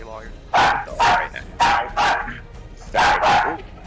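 A dog barks repeatedly in close, loud bursts, roughly five sharp barks in uneven rhythm with brief gaps and a faint voice underneath, heard during an online fighting-game session.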